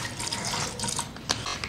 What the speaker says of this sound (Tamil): இப்போ கொஞ்சமாக ஐஸ் வாட்டர் விட்டுருக்காங்க சரிங்களா.